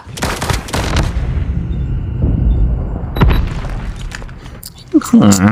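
Pistol gunfire in the mobile shooter Call of Duty Mobile comes as loud booming shots over a dense, continuous game soundscape, with a commentator's voice running over the action.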